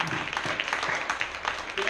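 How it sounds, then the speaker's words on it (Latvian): Audience applause at a children's awards event in Riga Cathedral: a dense wash of clapping that runs throughout, with voices mixed in. "vēl aplausi"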